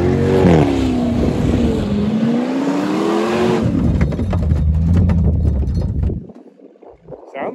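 A 4x4 Chevrolet Blazer with a bad muffler revs hard and loud, the engine note rising and falling over several seconds before cutting off abruptly near the end, with a brief rattling thump.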